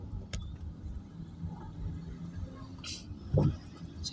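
Road traffic of cars and trucks near a closed bypass rumbles low and fairly distant, with one vehicle passing a little louder near the end and no talk.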